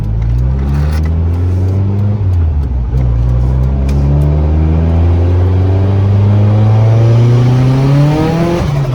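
A Mitsubishi Lancer engine revs and pulls loudly up through the gears while driving, with the tone rising steadily as it accelerates and a short dip partway through, with no talk over it.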